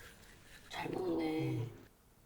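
A lost puppy whimpers and whines in a short, high, wavering cry that rises over a quiet room and fades after about a second.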